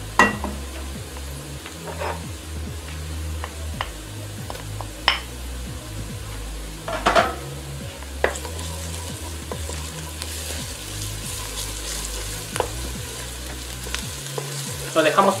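Ground garlic and softened onion sizzle and fry steadily in a pan, a continuous crackle with occasional stirring scrapes and light clinks of utensil against metal, close and fairly loud throughout.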